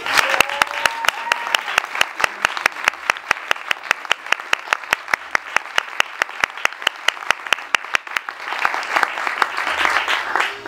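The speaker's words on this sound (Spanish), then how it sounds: "les pedimos que recibamos con un fuerte y cálido aplauso a la única e inigualable Maya Zapata." A live radio studio audience gives warm applause, with sharp, quick, regular claps carrying on for several seconds while voices speak over them.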